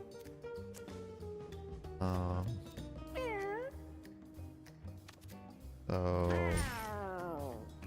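Cartoon cats meow in the Mewgenics video game, with several distinct mews rising and falling, two of them loud and drawn out, heard over game music and a brief bit of speech.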